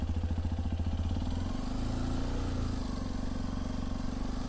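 A Hero Xpulse 210 motorcycle engine runs steadily nearby with a rapid, even pulsing thrum. The tone rises slightly as it pulls away.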